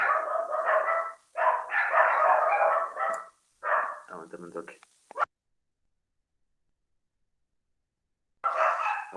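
Dogs barking in a series of loud bursts close by during the first five seconds, some yelping, with speech over them, then silence before a voice returns.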